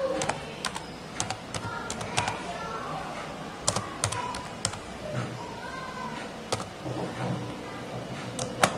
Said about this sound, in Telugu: నేను ఏదో ఒకటి సంథింగ్ ఏదో ఒక డేటా అనేది రాస్తున్నాను